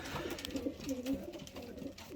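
A racing pigeon coos softly in a loft, a few low murmuring calls repeating close by over faint background noise.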